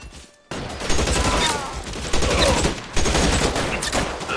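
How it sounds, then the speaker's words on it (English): Sustained covering gunfire in a video game firefight, loud and continuous, starting after a brief near-silent moment and carrying on with repeated bursts and swells; a voice talks faintly underneath. "Lay down some covering fire."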